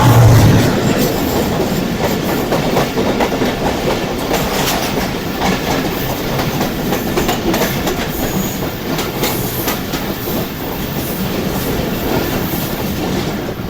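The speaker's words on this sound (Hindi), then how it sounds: "ये सामने से आ रही है कराची लाहौर के दरमियान चलने वाली 33 या पाक बिजनेस एक्सप्रेस।" A Pak Business Express passenger train running between Karachi and Lahore rolls past close by with a loud, steady rumble and rhythmic clickety-clack of wheels on rail joints.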